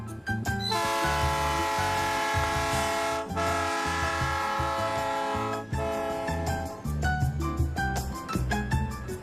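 A slow-moving passenger train passes through an ungated street crossing in Curitiba, Brazil, sounding a long, loud sustained horn blast, then a second blast after a short break, with heavy rumbling and clanking wheels underneath.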